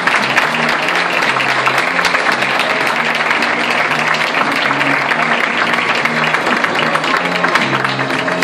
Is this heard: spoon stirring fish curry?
no